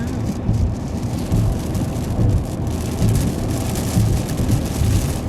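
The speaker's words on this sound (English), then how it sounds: "And it's raining again." Steady rain roars against a moving car, a constant wash of noise with low road rumble underneath.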